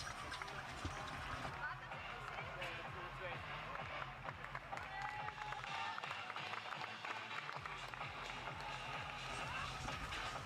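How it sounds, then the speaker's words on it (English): Spectators cheer and clap along the finish line at an evening track meet in Vienna as runners sprint home, a steady dense crowd roar filling the whole stretch with scattered claps and footfalls mixed in. "the crowd, they're utterly informed by what's happening here. And they're really cheering on every single athlete"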